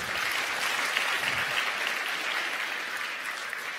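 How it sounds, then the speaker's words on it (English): Audience at a conference session breaks into steady, dense clapping that holds evenly loud throughout, with no voices over it. "I'm hoping that by clapping that was correct"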